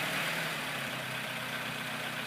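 A 1916 Ford Model T pickup with a 2.9-liter four-cylinder engine of about 20 horsepower runs at a steady, even idle, moderately loud and close, with no voices.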